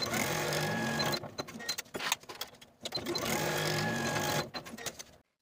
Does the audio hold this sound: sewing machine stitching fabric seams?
yes